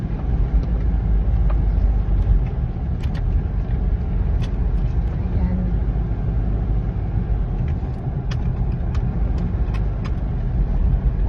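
Steady low engine rumble and road noise fill the cabin of an Isuzu MU-X while riding as a passenger, continuous and fairly loud with faint rattles.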